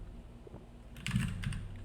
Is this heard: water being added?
no